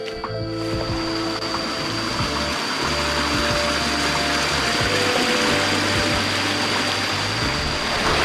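A waterfall pours beside a muddy jungle trail on the way to the Baduy villages, a steady, dense roar of rushing water that stays loud and unbroken throughout, with a faint constant tone running underneath.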